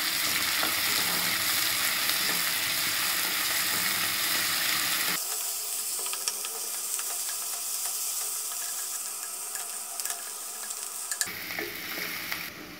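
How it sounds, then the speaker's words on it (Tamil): Sliced onions sauté in hot oil for mutton biryani in a pressure cooker, a continuous crackling sizzle with stirring scrapes; the sound thins and softens partway through, then a few sharper clicks near the end. "நீல வாக்கில் கட் பண்ண வெங்காயம் சேர்த்து நல்லா வதக்கிக்கலாம்."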